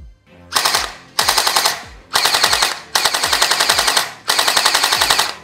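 An STD 777 toy gel blaster fires in five rapid full-auto bursts, each a fast rattling string of shots separated by brief pauses, loud and close.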